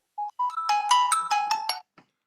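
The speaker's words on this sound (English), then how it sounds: "my phone is ringing" Phone ringtone chiming a short melodic sequence of bright electronic notes, clear and fairly close, ending abruptly.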